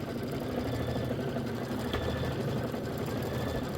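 A sewing machine stitches a quilt block in the hoop, giving a fast, even mechanical whirring hum that runs steady and close throughout with no pauses.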